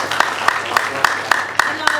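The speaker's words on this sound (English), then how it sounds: "Please, another round of applause." An audience applauds a teacher at a university open forum in Ghana, steady rhythmic clapping with regular sharp accents running under continuous background noise, no clear speech.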